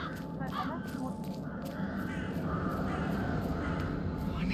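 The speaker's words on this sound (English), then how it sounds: "It's the birds. They're making a racket, droppings everywhere." Crows caw repeatedly in the Hitman III game world, a loose run of harsh calls over a steady ambient background of distant game sound.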